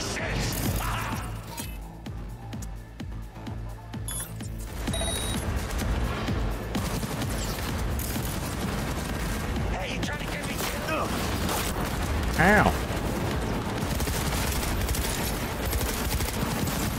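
Cyberpunk 2077 combat with thrown grenades: sustained bursts of gunfire and blasts crackle in dense, continuous volleys at a steady loud level, with a sharper crash near the end and a voice talking over parts of it.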